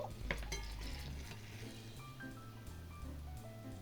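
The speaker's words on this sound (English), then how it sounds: "So I'm just dropping these in the grease." Filled dough pastries drop into hot frying grease, giving a faint, steady sizzle and bubbling close by, with small clinks in a quiet kitchen.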